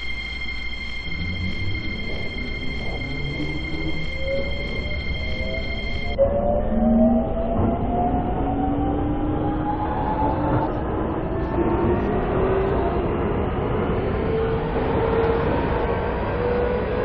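A Line 1 subway train bound for Hanam pulls away after an electronic tone stops, its motors whining up in rising pitch with a steady rumble and clatter of wheels on rail, heard from inside the car.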